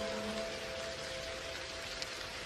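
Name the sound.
rain falling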